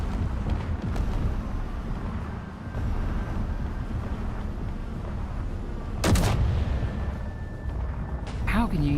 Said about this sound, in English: That's a lot of rockets.